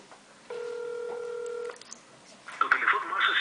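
A single steady touch-tone beep sounds for about a second on an automated Pizza Hut phone line, followed by a burst of background noise.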